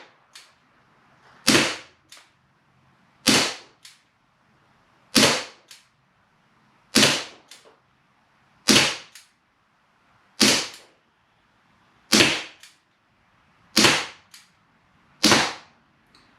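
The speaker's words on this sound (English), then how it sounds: "Okay, here we go with 10 more rounds at about 15 feet." A Sig Sauer 1911 CO2 BB pistol fires nine sharp, evenly spaced shots at a target about 15 feet away. Each loud crack is followed by a fainter tick, and there is no talking.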